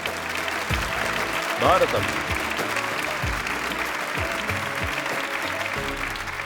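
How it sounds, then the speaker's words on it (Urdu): Audience applause for a young girl about to recite the Quran from memory at a religious gathering, a steady broad wash of clapping under a voice speaking briefly. "میری بیٹی، ان کے لیے تالیاں."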